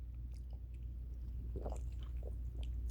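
Close-up chewing of a toasted English muffin with chicken: soft, wet bites and small crunches in an irregular rhythm over a low steady hum, with no talking.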